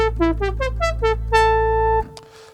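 A Sequential Prophet 10 synthesizer plays the classic brass patch from the original Prophet 5: a loud, bright run of quick stepped notes climbs into one sustained held tone, then cuts off sharply.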